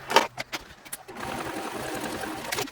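A sewing machine stitches purse pieces for a concealed-carry purse, with a few short bursts first and then a steadier run of stitching toward the end.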